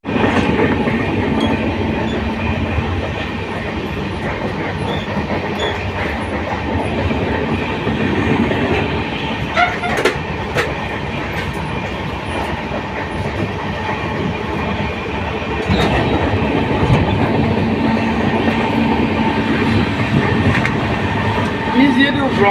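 Brahmaputra Mail train running at speed, heard from inside the coach as a loud, continuous rumble with rhythmic clickety-clack of wheels over rail joints and occasional sharp clanks, with some talk mixed in.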